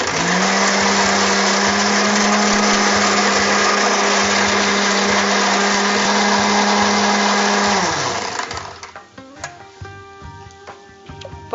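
A kitchen mixer grinder whirs loudly and steadily, grinding coconut, pepper and fennel with a little water, then winds down and stops, followed by a few clinks and handling sounds.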